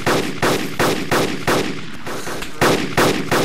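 Video game gunfire rings out in a regular rhythm of about eight loud, sharp shots spaced roughly half a second apart, close and punchy with no talk over it.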